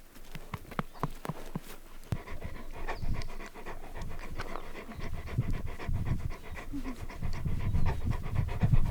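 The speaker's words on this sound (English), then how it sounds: "They're Great Pyrenees breed, and they were started, basically born into a herd of sheep" Two ten-month-old Great Pyrenees brothers pant close by in fast, rhythmic breaths, with hoof-like clip-clop sounds from nearby ranch animals in the background.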